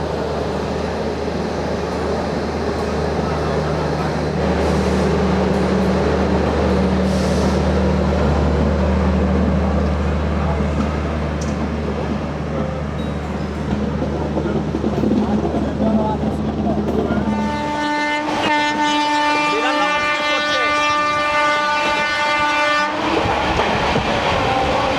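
The Amrit Bharat Express pulls out of platform 12 at Sealdah station on its first commercial run, with a steady rumbling roll and wheel clatter, then a long loud horn blast near the end, amid a murmur of voices.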